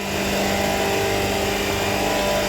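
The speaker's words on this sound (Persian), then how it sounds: "کمپرسور داره با فشار ساکشن منفی 9 PSI، فشار دیسچارج 124 PSI کار میکنه" A Mycom two-stage open screw compressor running steadily, a loud dense mechanical drone with a constant tonal hum and no variation in level, with no talking.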